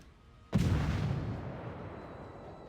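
A single sudden heavy blast of a warship detonating in World of Warships, a sharp booming onset followed by a long rumbling decay that fades over a couple of seconds.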